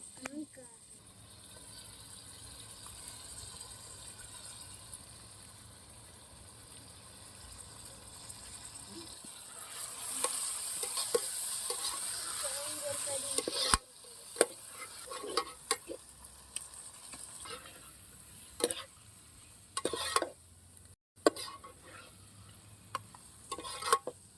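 Mutton pieces frying in paste in a pan for mutton thokku, with a steady sizzle under stirring and scraping, the scraping growing louder and more clattery in the second half; no one talks over it.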